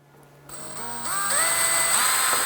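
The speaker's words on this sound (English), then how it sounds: "I'm going to drill a little hole." Power drill boring a small hole for a drawer knob on a wooden puzzle board, whirring up after a short pause and rising in pitch as it bites, steady and close for about two seconds.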